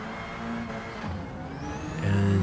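Rally car engine in Gran Turismo 7, a steady droning motor with gear-shift changes in pitch and a rising rev near the end, moderately loud and continuous.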